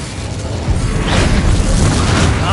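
A fire spell cast in Hogwarts Legacy bursts out with a rushing whoosh that swells into a loud, roaring boom lasting about a second and a half, close and dense, with no talking.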